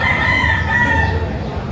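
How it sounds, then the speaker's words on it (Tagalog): Chickens at a poultry market in Batangas, with a sustained rooster crow over steady clucking and a busy, noisy backdrop, the birds close and loud. "Pero napakarami pa rin dito mga manok."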